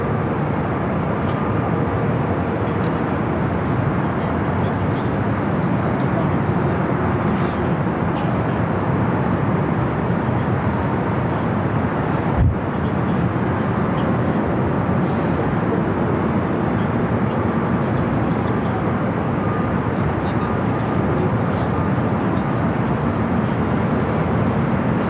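An Aer Lingus airliner in from Dublin roars steadily on its north side arrival at Los Angeles LAX, a continuous broad rumble lasting throughout with voices talking over it.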